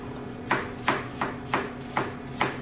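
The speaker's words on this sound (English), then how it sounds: "I'm still just gonna run this through my knife." Knife cutting through butter during pie making: six evenly spaced soft chops, close and moderately quiet, with no talking.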